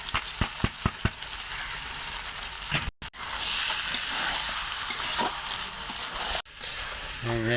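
Rice frying and being stirred in a pot for egg biryani, a continuous close sizzle with a few sharp scraping knocks at the start and brief dropouts midway.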